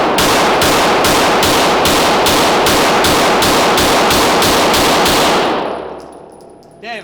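Rapid, evenly spaced gunshots fired outdoors with Prometheon industrial ammunition crack loudly one after another in a steady string of about a dozen, then stop and leave a fading echo.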